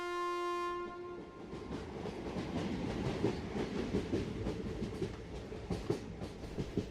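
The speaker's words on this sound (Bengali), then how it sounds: "তবে ট্রেনটাকে সে কখনোই চোখে দেখেনি, শুধু তার শব্দই শুনেছে" A ghost express train rumbles past with a rhythmic clickety-clack of wagons over the rails, opening with a sustained horn blast that fades into the steady roll of the carriages, loud and close with no voices.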